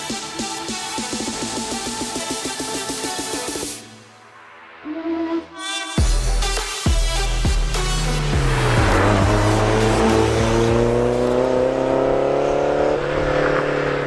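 A turbocharged HKS Subaru BRZ sports car driving, engine revving hard through gear changes with rising and falling pitch, a brief lull, then loud sustained acceleration close up, with music-like tonal layers over it.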